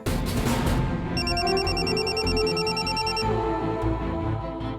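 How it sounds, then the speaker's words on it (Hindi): Telephone ringing indoors in a Hindi crime drama scene, a repeated electronic ring tone pulsing over about two seconds amid background sound, with no speech. "तभी संतोषी का फोन आया हमको।"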